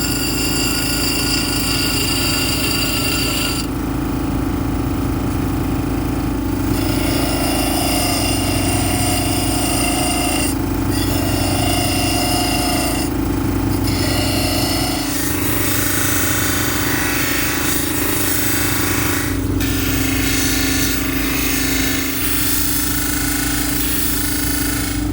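A power tool grinds and domes stone wine stoppers mounted on dop sticks with a loud, continuous buzzing whine, its pitch and grit shifting as pressure on the stone changes.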